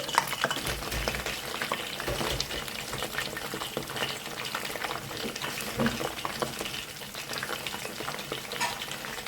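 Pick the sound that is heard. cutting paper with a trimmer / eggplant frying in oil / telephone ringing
eggplant frying in oil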